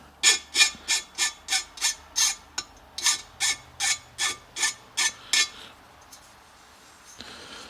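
Hand file strokes on the edge of a welded aluminum part, about a dozen evenly spaced, close rasping passes in a steady rhythm that stop near the end.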